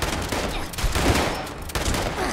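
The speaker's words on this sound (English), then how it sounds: "I just made this shotgun because it's cheap" A cheap crafted shotgun fires in Fallout 76, with loud blasts in quick succession, each a broad crack, set against dense ongoing combat noise.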